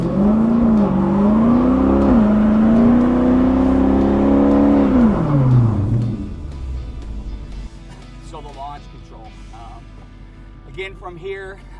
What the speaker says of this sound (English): We let the car come forward a few feet and then roll onto the throttle.